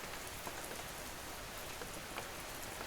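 Steady rain falls in a soft, even hiss with scattered tiny drop patters, faint and continuous throughout with no voices.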